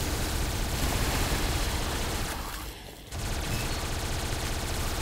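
Rapid Tommy gun fire in the shooter game Tesla vs Lovecraft, a dense continuous burst of automatic shots that briefly dips before resuming at full loudness, with no talking.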